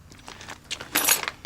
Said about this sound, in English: These are the keys we used to gain entry to the garage at the back of your flat